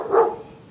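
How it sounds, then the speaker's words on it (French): A dog gives one short, loud bark in a French lecture room, and the sound fades quickly into quiet. "Qui excite le chien?"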